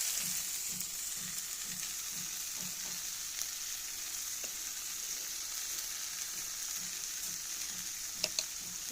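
Chilli soybean curry sautéing with tomato ketchup in a pan, a low, steady sizzle with soft rhythmic stirring thumps and a few light clinks near the end.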